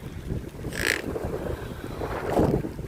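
Steady wind roars across the microphone, with gusty rumbling buffets swelling and easing throughout, loud and close.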